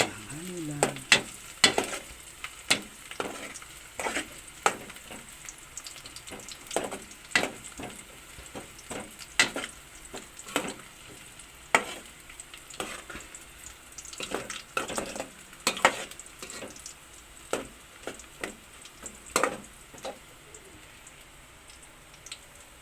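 Garlic and ginger fry in a pan for a vegetable soup, with soft steady sizzling under repeated sharp scraping stirs at an irregular rhythm, close and clear, plus faint bird cooing in the background.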